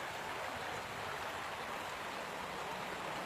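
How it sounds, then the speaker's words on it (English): A creek flows outdoors with a steady, even rush of water, a continuous hiss with no breaks, fairly soft and without voices. "Why don't you show them a pretty shot of the creek, Nadia, while I dig this little..."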